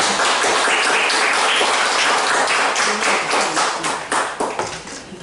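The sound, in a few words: audience applause welcoming the speaker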